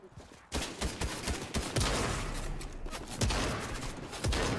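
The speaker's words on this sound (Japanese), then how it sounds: "他でも銃声するな" Gunfire from a Fortnite match crackles in dense, continuous bursts of overlapping shots, some near and some farther off, with a few sharper cracks standing out.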